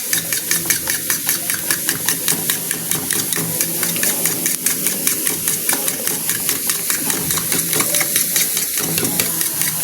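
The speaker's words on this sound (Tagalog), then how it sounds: "Wait lang, habang binabati-bati ko pa yung itlog." Eggs are beaten briskly in a bowl for scrambled eggs with red bell pepper, a fast steady rhythmic clatter over the loud sizzle of garlic and onion frying in a pan.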